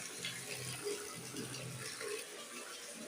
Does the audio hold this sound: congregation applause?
no